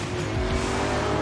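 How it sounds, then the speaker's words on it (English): An Alpina BMW race car drifts out of a corner, its engine roaring loudly and steadily with a brief rising scrub of tyres, continuous and close throughout. "The car drifts a bit."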